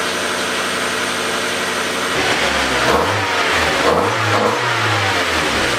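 A Mazda Miata engine fitted with a homemade air intake idles loudly, then revs up in several rising and falling throttle blips heard close by.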